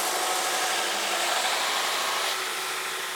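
A Shop Master 72-inch belt grinder runs a knife blade against its belt, giving a loud, continuous abrasive rasp with a steady grinding roar throughout and no pauses or voices.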